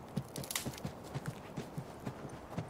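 Horse hooves clip-clopping in The Last of Us video game, a steady rhythmic trot of close, moderately loud hoofbeats with no talk over them.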